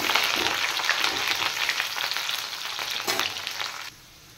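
Chopped onion fries in hot oil with a dense crackling sizzle, close and lively, then cuts off abruptly near the end.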